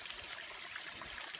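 Running water at a mountain water source on top of Pond Mountain along the Appalachian Trail, a steady close trickle and splash that goes on without a break.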